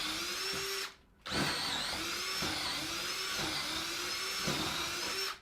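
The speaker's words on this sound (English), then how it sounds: "so I gotta drill my holes" A power drill bores holes into wood while building a sawbuck, a high steady whine that stops briefly, starts again and rises and dips as the bit bites, close and loud with no talking.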